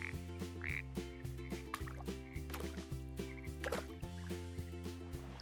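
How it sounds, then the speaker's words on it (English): Frogs by a river croak in short repeated bursts over a steady musical bed, fairly close and moderately loud. "Frogs can hop on land and swim in water."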